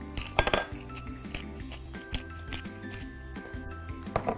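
Pasta salad with lemon, oregano, salt and black pepper is tossed in a bowl, giving soft, close clinks and scrapes of utensils against the dish in an uneven rhythm with no talking.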